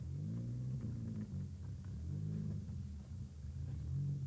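A yellow rally car from the Citroën ZX trophy at the 1996 Boucles de Spa rumbles at a steady low pitch, its engine note swelling and easing in waves at a middle distance.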